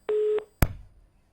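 A telephone line drops during a live call, giving one steady electronic busy tone that stops abruptly, followed by a sharp click and a short fading thump, with no voices.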